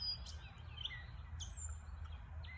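Birds chirp outdoors, giving a few faint, thin, high tweets scattered over a steady low background rumble.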